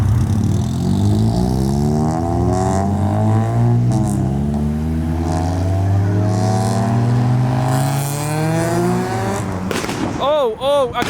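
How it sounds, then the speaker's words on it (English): Modified Honda Civic and Nissan S14 pulling away from a Japanese car meet, engines revving loudly and rising in pitch as they accelerate, with sharp pops and a brief tire chirp near the end. "the Civic's popping flames and the S14 is now leaving"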